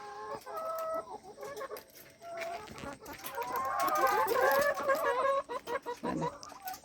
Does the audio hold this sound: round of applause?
no